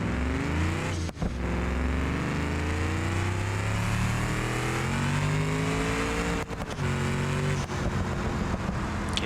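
A manual-transmission car on a 500-shot nitrous system in BeamNG revs hard through a third-gear pull, the engine note climbing steadily and loud, with a brief dip partway through.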